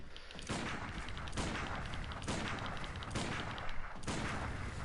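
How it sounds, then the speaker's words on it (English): Pistol shots in the video game Bloodborne, a rapid run of loud blasts arriving in several bursts about a second apart over dense game noise. "you're going to lock on and start shooting with your pistol"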